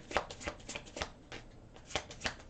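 A tarot deck is shuffled for a reading, with quick papery riffles and soft slaps of cards in an irregular burst of strokes, close and quiet, without any talk.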